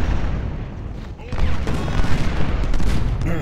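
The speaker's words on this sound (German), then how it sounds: "meinen Kanonen kann ich ja sagen, Feuer auf die anderen Kanonen" Cannon and rifle fire in the Civil War strategy game Ultimate General: Civil War, a dense, continuous fusillade of overlapping shots and booms rolling loudly throughout, alone without talk.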